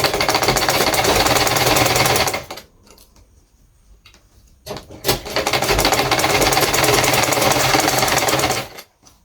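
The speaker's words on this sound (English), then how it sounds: "So now I'm going to be sewing this side" A sewing machine stitches the side seam of an overbust corset in fast, loud, continuous runs, with a brief pause in the middle before the stitching resumes, ending with a short burst.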